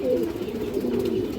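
Green-necked pigeons from a breeding pair coo in low, continuous, rolling murmurs throughout, fairly close and steady with no breaks.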